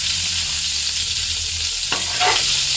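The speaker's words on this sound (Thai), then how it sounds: "ใส่กุ้งไปรวนเลยค่ะ" Shrimp being stir-fried in a wok for Thai fried rice, a loud, dense, close sizzle that holds steady, with a couple of brief scraping stirs near the end and no talking.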